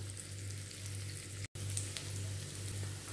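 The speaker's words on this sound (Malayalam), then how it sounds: "സോസേജസിനെ ഞാനൊരു 1/2 ഓയിൽ 1/2 ബട്ടറിൽ നന്നായിട്ട് ഒന്ന് ഫ്രൈ ചെയ്ത് മാറ്റാൻ പോവാം" Sausages fry in a pan of half oil and half butter, giving a faint, even sizzling hiss over a low electrical hum, with one brief dropout midway and no talking.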